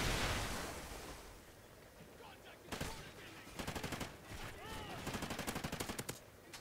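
Gunfire in the Call of Duty Ghosts video game, a sharp shot followed by rapid bursts of automatic fire, repeated in quick rhythmic volleys over a noisy game background.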